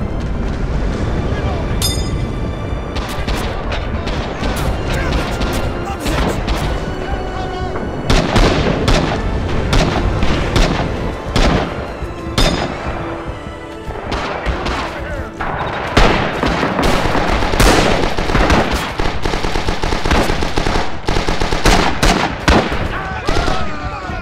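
Dense gunfire and booming explosions fill a battle on the Betio map in the video game Rising Storm 2, with loud overlapping shots and blasts continuing throughout and players' voices now and then under the din.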